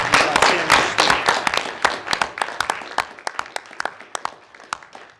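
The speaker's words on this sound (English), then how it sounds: "how about a nice round of applause for his outstanding student" Applause at a school board meeting bursts out loudly as a room of attendees honor a student, then thins into scattered individual claps that fade over a few seconds.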